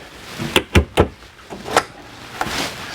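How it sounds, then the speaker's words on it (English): Slide drawer above the sink in the kitchen of a 2019 Newmar Dutch Star 4018 diesel motorhome, giving several sharp close knocks and sliding thumps in quick succession, followed by a softer slide and a final tap. "We even have a slide drawer up here above the sink."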